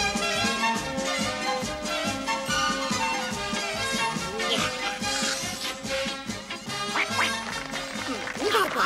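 A cartoon duckling in a Smurfs Easter story quacks repeatedly, bright and close, over busy music with occasional voices.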